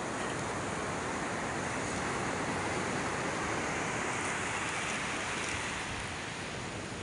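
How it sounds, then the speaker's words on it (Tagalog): Strong sea surf breaks at the shore in a continuous loud wash, with wind buffeting the microphone throughout. No voices are heard. "Kahit malaki ang alon."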